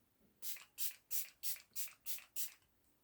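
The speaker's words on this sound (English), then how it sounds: "It's quite of an aggressive spray" Seven quick hissing sprays from a makeup pump spray bottle, evenly spaced in a steady rhythm, close and fairly quiet.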